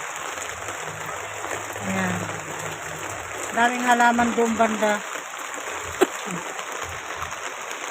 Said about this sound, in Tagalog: Lumalakas rin ang ulan.